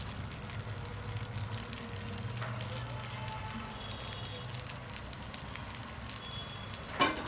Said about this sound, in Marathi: असे पलटायचे वांगे, म्हणजे सगळीकडून वांगे असे मस्त फ्राय होतात आपले.